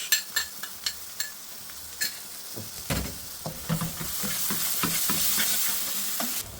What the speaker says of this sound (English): Next we're going to add the masala sauce.